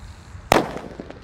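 A purple Disco Happy Flower B firecracker lit outdoors goes off with one sharp, loud bang, followed by a few fainter crackles and pops as it dies away.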